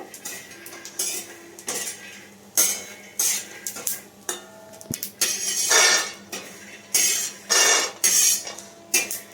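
Peanuts stirred in a frying pan for chutney, with a metal spatula clinking and scraping against the pan in irregular bursts, close and clear, with no talking.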